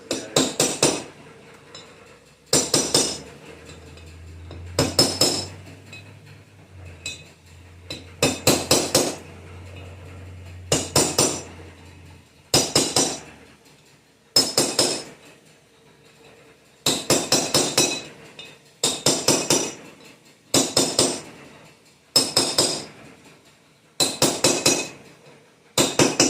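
A hammer taps a part into place on a Studebaker gasser project, about fifteen sharp metallic strikes landing singly and in quick pairs at an uneven rhythm, close and loud over a quiet room.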